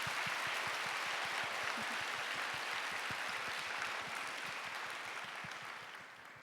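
A church congregation at a young adults' worship service applauds steadily, a dense wash of many hands clapping that holds for several seconds and then begins to taper off near the end.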